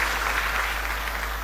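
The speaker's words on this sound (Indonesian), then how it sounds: "Berikan tepuk tangan." A church congregation applauds during a sermon, giving a dense, steady wash of clapping that holds evenly for a brief moment, with no voice above it.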